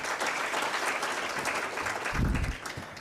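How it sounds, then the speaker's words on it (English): A crowd at an anti-corruption conference applauds in a steady wash of clapping, moderately distant, holding for about three seconds with a brief swell near the end. "Another round of applause for Judy."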